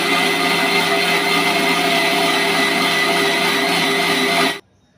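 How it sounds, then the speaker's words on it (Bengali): Mixer grinder blending ripe mango pieces with sugar into a paste, a loud steady whirring motor hum running continuously, then cutting off abruptly near the end into silence. "এবার মিক্সার জারের ঢাকনা বন্ধ করে মিক্সিতে পেস্ট করে নেব।"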